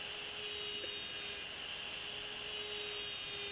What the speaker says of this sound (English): For this ring, I'm going to use a conical shaped carbide bit.